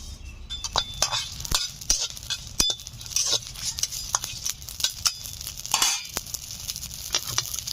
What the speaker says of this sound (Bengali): এগুলো শুকনো খোলায় ভেজে নিচ্ছি।